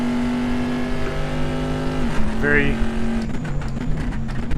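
Deep V8 of a Corvette C7.R race car in a Sebring sim race drones steadily, dips briefly on a downshift, then carries on loud and close as a commentator speaks over it.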